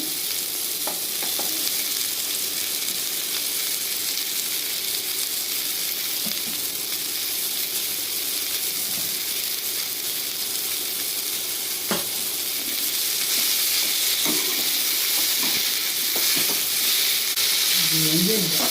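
Large onion juice frying in a little oil in a pan for a diet millet dosa chutney, a steady close sizzle and hiss with occasional stirring scrapes throughout.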